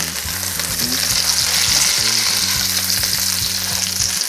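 Steady, loud sizzling of meat frying in a hot pan, a continuous crackle with a few soft clinks and scrapes, no voices.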